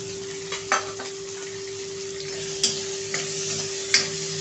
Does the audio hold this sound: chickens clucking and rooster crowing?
no